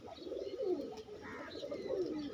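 Pigeons cooing softly at a pigeon seller's shop, low throaty coos rolling on without a break, with a few faint higher chirps mixed in.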